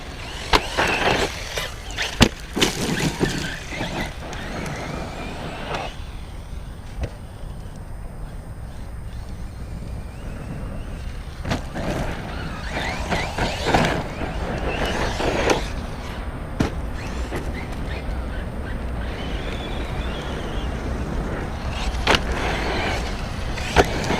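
A Team Corally Dementor XP RC truck running its electric motor on 6S power whines and surges in repeated bursts of throttle, with bumps and clatter from bashing. The sound stays loud and close throughout.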